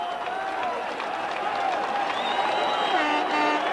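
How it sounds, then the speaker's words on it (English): A rugby league crowd at Workington Town v Wigan erupts in applause and cheering after a Workington Town try. The broad, sustained crowd roar is heard at a distance, with a voice talking over it. "And you can listen to the crowd, you can tell what they think of that"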